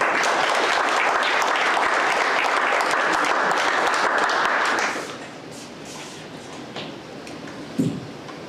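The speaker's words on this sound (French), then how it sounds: "applaudissez-le" Audience applause for federal MP Angelo Iacono at a closing gala, dense, loud clapping for about five seconds that then drops away to murmuring room noise and a brief knock.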